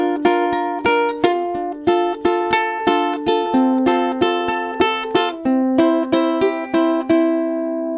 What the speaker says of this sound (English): And then with the finger picking pattern, it sounds like this.